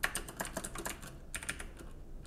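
Typing on a computer keyboard while writing Python code, a close run of light rapid key clicks in short bursts with a brief pause midway.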